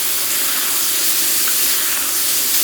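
Lemon garlic pepper seasoned scallops sizzle in butter on a discada, a loud, steady, close hiss of frying with no pauses.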